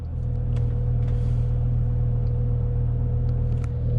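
A BMW E60 M5 engine idles steadily on level ground, a continuous deep low rumble with a constant hum and no revving, loud and close throughout.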